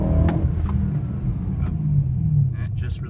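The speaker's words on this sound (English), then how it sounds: "I'm gonna try to execute a downshift." A car engine under cold rev-limit protection, held near 4,500 RPM, rumbles close and steady through a downshift, with small shifts in pitch and faint clicks near the end.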